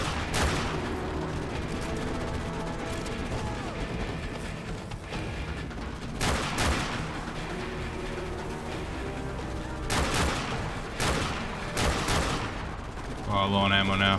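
Video game gunfire in Call of Duty 4, with several sharp sniper rifle reports and other shots cracking out over constant battle noise and faint game sounds, loud and close throughout.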